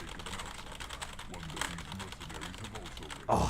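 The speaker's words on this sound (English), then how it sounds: "Those keyboard sounds just going." Rapid computer keyboard typing clatters on continuously, a dense stream of close key clicks, with a louder burst of noise at the very end.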